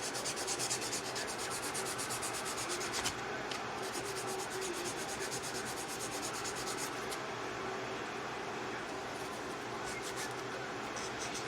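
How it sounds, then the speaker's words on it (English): Acrylic nail tips being filed by hand, a steady close scratchy rubbing that runs continuously and evenly throughout, with no talking over it. "And do some filing off the hand."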